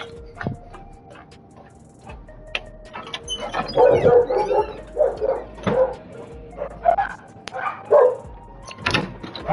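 Several dogs bark and yip in irregular bursts, some sharp and close, with occasional whimpers between, the barking growing busier and louder in the second half.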